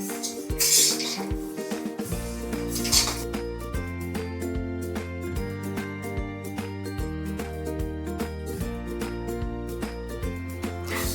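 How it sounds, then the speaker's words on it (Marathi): Sesame seeds roasting over a low flame while being stirred in a pan, with metallic scraping and clinking of the spoon against the pan, close up, under steady background music. "गॅस अजिबात वाढवायचा नाही आहे आपल्याला फ्लेम हा मंद आचेवरच भाजायचे आहेत आपल्याला आणि परतवत राहायचे आहेत"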